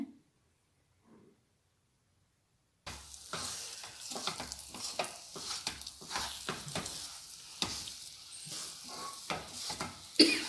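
Mung bean laddu mixture is worked with ghee in a pan, a near silence giving way to close, busy scraping and stirring with faint sizzling and uneven clicks.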